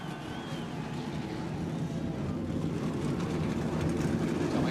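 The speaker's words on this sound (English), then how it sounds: "Gentlemen, start your engine." Several NASCAR Busch Series stock car engines fire up together at North Carolina Speedway, a loud, steady, dense rumble that swells slightly and holds continuously.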